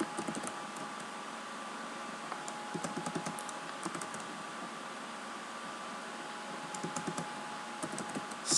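Code being typed on a computer keyboard, quick irregular bursts of key clicks over a steady soft fan hiss, close and moderately quiet, with no talking.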